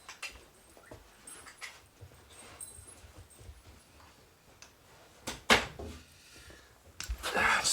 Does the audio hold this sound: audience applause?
no